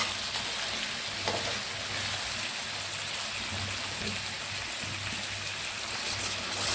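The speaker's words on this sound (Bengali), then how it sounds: "তো দেখো মাংসের গা থেকে তেলও ছাড়তে লেগেছে, মাংস কষা আমার প্রায় হয়ে আছে।" Mutton being sautéed in oil for kosha gives a steady, close sizzling hiss that never lets up, with a few faint stirring scrapes over it.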